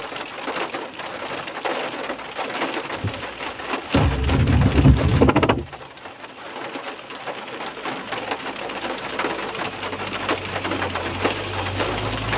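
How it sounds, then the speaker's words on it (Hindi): Steady, continuous rain falls on a hillside road near Dalhousie, Himachal Pradesh, a dense hiss throughout with a brief louder patter burst midway, low rumble beneath, and no talking. "अभी भी कंटिन्यू जो है ये लगातार बारिश जो है ये"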